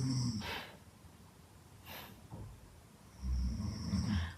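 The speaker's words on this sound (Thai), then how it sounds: "แต่อย่ามีเสียงกรนได้ไหม" A sleeping person snores in a few loud rough breaths, two snorting inhalations at the start and end with quieter breathing sounds between them, close up and alone.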